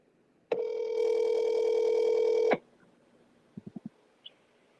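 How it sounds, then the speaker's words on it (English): A phone call placed on speakerphone gives a loud, steady dial tone lasting about two seconds, then a quick run of short dialing beeps and one final faint blip, with no talking. "call Don Haynes on speaker"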